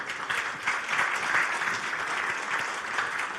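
Applause from an audience for a panel at the ZF Power Summit 2025, dense, steady clapping from many hands that fills the room for a few seconds, with no one speaking.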